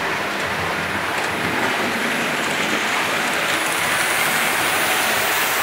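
A Hornby model Flying Scotsman locomotive runs around its layout track, giving off a steady, loud, dense rushing whir of motor and wheels that never lets up.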